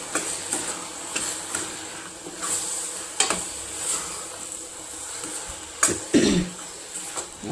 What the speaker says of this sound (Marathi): ह्याला हलवून घेऊया